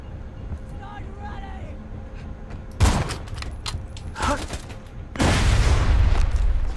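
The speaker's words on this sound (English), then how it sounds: "That was quite the explosion." Borderlands 2 video game combat: a sudden loud explosive burst, then rattling gunfire and a second heavy blast that rumbles on. Someone talks at the start.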